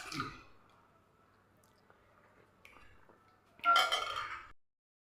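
Ice cubes clatter into glasses in a short loud burst near the end, after a few faint clinks in an otherwise quiet room.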